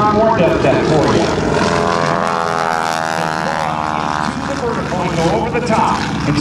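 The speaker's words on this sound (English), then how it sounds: "roll the airplane upright, and do the same thing the other direction" A propeller aerobatic airplane performs a loop at an air show homecoming, its engine droning loudly and steadily with a rising and falling pitch as it passes, under continuous announcer talk.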